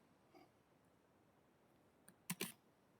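A few sharp key clicks on a computer keyboard as data is typed in, a faint tap early on and then a quick cluster of louder keystrokes near the end, close and isolated against a quiet room.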